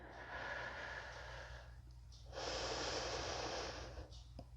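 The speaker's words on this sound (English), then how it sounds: "Take a couple of breaths here." Two long, deep breaths during a seated chair core workout, each a loud, close airy exhale lasting around two seconds, separated by a short pause, with faint background hum.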